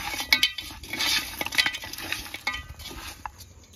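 Spices being mixed by hand into boneless goat head meat in a cooking pot in a village kitchen, with close wet squelching and stirring scrapes plus occasional light metallic clinks, steady and irregular with no talking.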